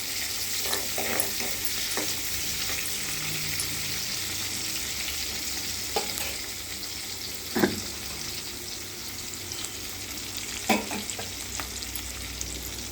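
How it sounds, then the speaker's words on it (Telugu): Chopped onions sizzle steadily in a hot pan, a continuous close frying hiss broken by a few scraping stirs of a spoon against the pan. "ఉల్లిగడ్డలు వేసాక కలపాలి. ఇది కొద్దిసేపు కుక్ అవ్వాలి."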